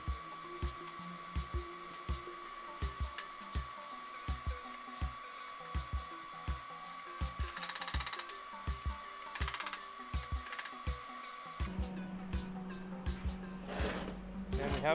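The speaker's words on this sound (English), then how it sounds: "So we'll take it off and weld up the bracket on the old TIG welder." An old TIG welder joins a bracket for a Girlock brake caliper on a race car, giving a steady electrical hiss and hum with regular soft ticks and a change in tone near the end, faint and close.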